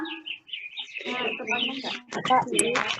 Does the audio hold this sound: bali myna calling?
yes